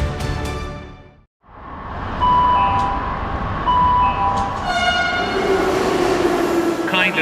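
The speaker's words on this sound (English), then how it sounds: "Delhi Election Metro 2025 is arriving on people's platform." A metro train rumbles in beside a platform. The steady loud roar is briefly cut by a short gap, then resumes, with sustained horn-like tones and a chime on top as it pulls in.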